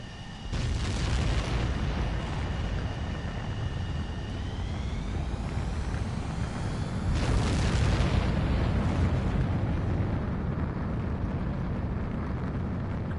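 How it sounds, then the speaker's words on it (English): Fighter jet taking off in the video game Ace Combat 7, a loud, continuous roaring engine blast with a rising whine that swells midway as the jet accelerates down the runway, heard alone. "begin takeoff sequence. You're cleared for launch."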